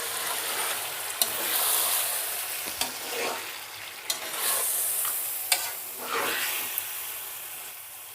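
Afghani chicken being stirred and mixed in a kadai, a continuous close sizzle broken by several sharp spoon knocks against the pan, no one talking.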